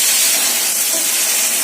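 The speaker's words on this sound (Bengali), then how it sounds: "চিচিঙ্গা ভাজা মনা বসিয়ে দিয়েছে" Snake gourd frying in a pan at home, giving a steady, even sizzle and hiss that stays at a constant level throughout.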